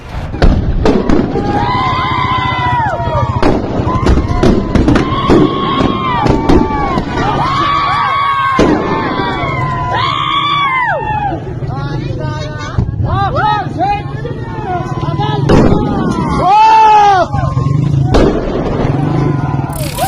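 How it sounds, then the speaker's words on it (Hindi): Firecrackers crack and bang again and again during a street protest in Iran, sharp irregular explosions amid a shouting, chanting crowd and loud voices. "ईरान की प्रदर्शनकारी जनता ने अपनी पुलिस के ऊपर बम पटाखे फेंके"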